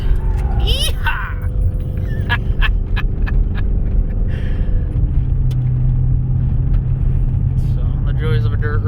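A 2005 Cadillac STS V8 rear-wheel-drive sedan drives along a dirt road with its sunroof open, a loud steady rumble of engine and tires over rough ground, with someone talking over it.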